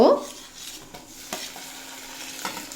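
Onion, garlic and green chilli frying in a pan, a steady close sizzle with occasional utensil scrapes and light knocks against the metal.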